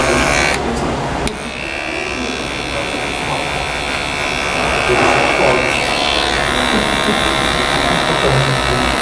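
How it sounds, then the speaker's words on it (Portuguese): A hair clipper used as a finishing trimmer buzzes steadily while tidying the hair at the nape during a men's scissor haircut, a continuous close hum that holds for the whole stretch. "fazendo uma graduação com a máquina de acabamento"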